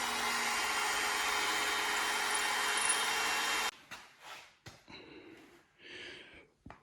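A power drill bores a pilot hole, then a larger bolt hole, through a vehicle bumper. It whines steadily for about three and a half seconds, then stops, leaving a few scattered knocks and clatters.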